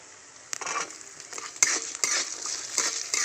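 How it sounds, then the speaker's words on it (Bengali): Coconut, peanuts, chickpeas and curry leaves fry in a pan with a brisk, close sizzle, broken by a few quick scrapes and clinks of a stirring spoon over about three seconds. "এবার একটু ভেজে নেব আমি যাতে বাদাম আর ছোলার কাঁচা গন্ধটা চলে যায়"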